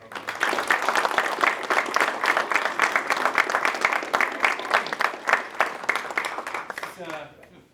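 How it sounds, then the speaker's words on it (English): An audience at a college talk breaks into sustained, dense applause, with many hands clapping loudly and evenly before it tapers off and a voice begins speaking at the end. "A round of applause for her."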